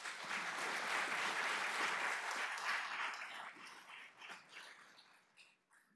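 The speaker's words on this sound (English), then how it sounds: "So let's give them another round of applause." Audience applause at a citizen police academy graduation ceremony, dense steady clapping that carries on for several seconds and then thins out and fades.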